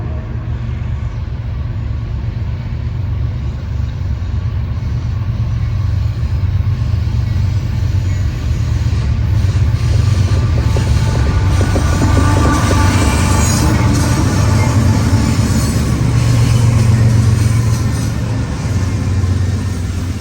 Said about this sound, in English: A train was approaching, and judging by the metallic squealing of wheels upon rails, this had to be NS train number 154